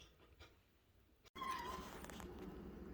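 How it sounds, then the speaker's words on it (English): Maxie the cat meows in the background indoors, a faint, drawn-out cry rising after a quiet stretch, heard alone without talk. "Pardon Maxie meowing in the background"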